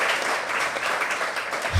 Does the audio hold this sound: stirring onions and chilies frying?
no